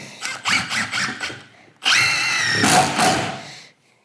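A Milwaukee drill drives 3-inch number 10 GRK screws into wood: first a string of short stuttering bursts, then a pause, then one long, loud, close whine that winds down and stops.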